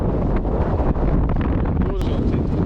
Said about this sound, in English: Yeah, pretty windy up the top again.